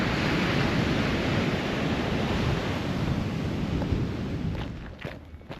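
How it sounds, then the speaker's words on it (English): Indian Ocean surf on the west coast of Australia roars steadily as a dense, continuous wash of breaking waves, loud and close with wind buffeting the microphone, fading slightly near the end. "that's the Indian Ocean on the west coast of Australia."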